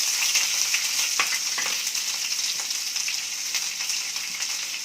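Chopped onion pieces fry in a pan on a low flame while making saagu, giving a dense, even sizzle that stays close and steady throughout, with light crackles and no talking.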